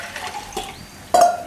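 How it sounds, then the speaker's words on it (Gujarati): A little water is poured into chana paneer curry cooking in a pan, a short close splash and gush arriving near the end after quiet kitchen clatter. "અને થોડુંક પાણી નાખશું આપણે."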